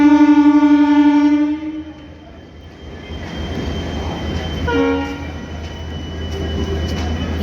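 A train near Ghatshila sounds a long, loud horn blast, then rolls on with a steady rumbling clatter of wheels, and a second brief horn note cuts through midway.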